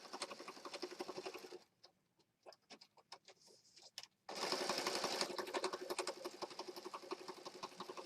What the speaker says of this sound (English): Make sure I'm not sewing over the ties.